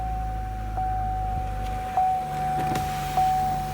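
Power windows on a 2015 Corvette Stingray whir in a steady electric motor hum, with several short motor runs ending in soft clicks and thumps as the glass reaches its stops.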